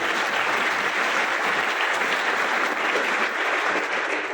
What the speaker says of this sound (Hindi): बजा लो तालियां।